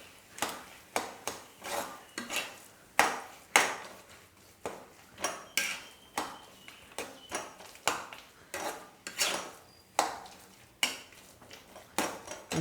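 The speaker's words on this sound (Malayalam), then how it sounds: "നല്ലോണം മിക്സ് ചെയ്യുക." A spoon stirs a sweet filling of cashews and raisins for steamed banana leaf pancakes in a pan, giving repeated scraping strokes in a steady rhythm, close and clear with a faint sizzle underneath.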